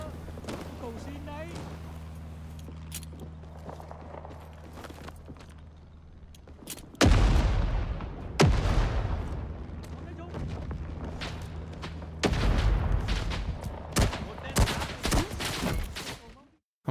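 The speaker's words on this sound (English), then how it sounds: "Finally, some delicious fucking arty" Artillery barrage in Rising Storm 2 on Apache Snow: rumbling booms and heavy blasts, some close and loud, arrive in bursts over several seconds after a quieter stretch, with players talking throughout.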